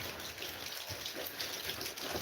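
Steady rain pours down outdoors, a dense, even hiss of drops with no voices, holding at a constant moderate level throughout.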